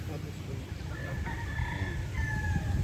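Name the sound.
Boston Black gamefowl rooster crowing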